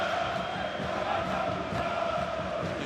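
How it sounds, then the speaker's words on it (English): Basketball arena crowd at a playoff semi-final roaring steadily and loudly, a dense continuous wall of cheering and shouting with no breaks. "His crowd is relentless."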